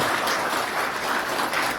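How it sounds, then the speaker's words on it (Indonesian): Audience at a seminar claps together, a brief, even burst of dense applause filling the room. "Tepuk tangan."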